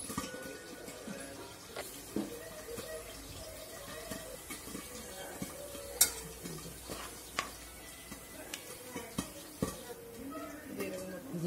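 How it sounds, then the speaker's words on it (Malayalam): Cumin seeds sizzle in about three spoons of hot oil for a Punjabi samosa filling. A soft, steady crackle runs throughout with scattered sharper pops, quiet and close. "എണ്ണ ചൂടായാല് കടുകല്ല ജീരകമാണ് ഇടുന്നത്."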